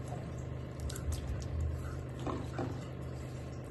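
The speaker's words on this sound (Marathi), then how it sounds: "आता हे स्वच्छ पाण्यामध्ये धुवायचे ते" Green peas rinsed by hand in clean water, with soft squishing and wet sloshing, a couple of brief splashy bursts near the end, close and fairly quiet.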